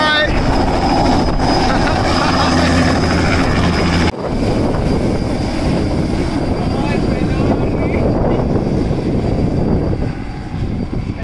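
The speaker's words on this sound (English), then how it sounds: "Bye bye, helicopter!" Helicopter over Santa Marta, Colombia, flying away, a loud steady rotor and engine roar that drops in level partway through and slowly fades, with voices calling out over it.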